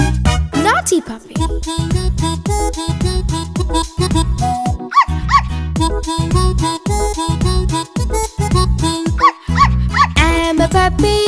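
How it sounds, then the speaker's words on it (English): A puppy's barks ring out repeatedly inside a bouncy children's nursery song about a bicycle, sharp bright yips riding on top of loud synthesized music with a steady beat. "Naughty puppy!"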